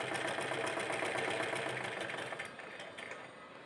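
Electric sewing machine stitching the seams of a homemade fabric face mask, a steady continuous whirring hum that runs loud and then eases slightly softer near the end, with no talking.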